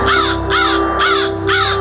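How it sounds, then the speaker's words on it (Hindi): A crow caws four times in a steady rhythm, harsh and loud, close by with a faint steady hum underneath. "चिल्लाता कौवा"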